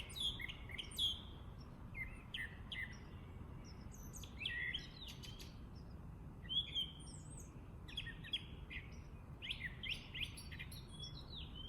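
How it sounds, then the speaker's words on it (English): Several birds chirp and tweet outdoors in Arkansas in quick, scattered bursts over a soft background hush, fairly close and clear. "One of the great things of being outside is hearing the birds."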